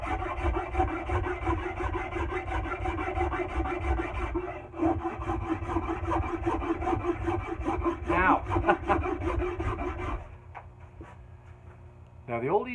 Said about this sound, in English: So I'm gonna keep smoothing out these lines, smooth out the corners on the back.